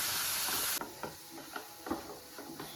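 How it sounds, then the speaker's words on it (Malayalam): Sugar syrup poured into a rava ladoo mixture with cardamom powder, then stirred. A steady hiss of pouring ends abruptly and gives way to soft, repeated scraping stirs. "റെഡിയാക്കി വെച്ചിട്ടുള്ള പഞ്ചസാര പാനി ആഡ് ചെയ്യാം. നന്നായിട്ട് യോജിപ്പിച്ച് കൊടുക്കാം."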